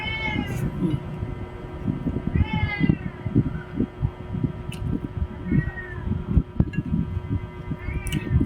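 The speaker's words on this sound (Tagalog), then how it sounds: "alaga ay panay ang meow meow." Several cats meow repeatedly, rising and falling cries spread across the clip over a steady background hum and clatter.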